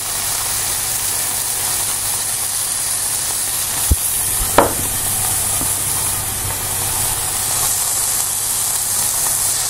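Seasoned fish for tacos sizzling on a grill, a steady broad hiss that continues throughout, with a couple of brief clicks or taps partway through and no talking.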